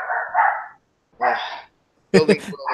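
A dog barks at close range in a room during a podcast recording, three loud separate bursts with short silences between them.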